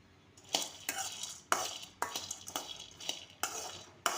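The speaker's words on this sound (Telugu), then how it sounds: "ఇలా ఫైవ్ మినిట్స్ అలా సిమ్లో పెట్టేసి డ్రై డ్రై రోస్ట్ చేయాలండి" Pumpkin, sunflower and sesame seeds dry roasting in a pan over low heat, stirred in quick rhythmic scraping strokes, about eight in a row. Quiet, close and without speech.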